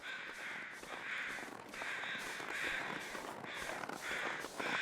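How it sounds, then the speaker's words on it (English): Agitated crows in the video game The Long Dark caw over and over in harsh, overlapping bursts, loud and fairly close, with no talking. "those crows sound very agitated"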